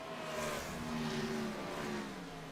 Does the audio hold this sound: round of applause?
no